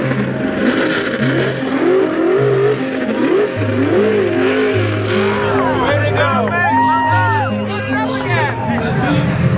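Race car engines rev and roar up and down in pitch, shooting flames, amid crowd chatter and background music at the Amelia Island Concours, loud and close.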